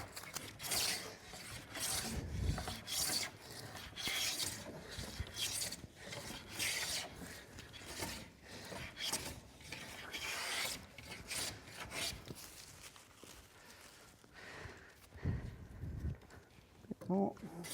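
A hand plane rasps in repeated strokes along the leading edge of a wooden door, peeling clean shavings, with a few heavier thumps near the end, steady and close.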